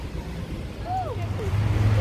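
Steady wind rushing and buffeting throughout, with a low rumble and a faint tonal whine drifting in the background.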